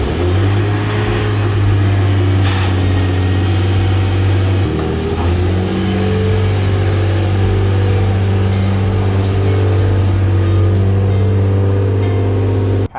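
A Toyota Supra's engine idles close by with a steady low drone, stepping down in pitch partway through as the car is pulled out, with a few faint clicks and knocks around it.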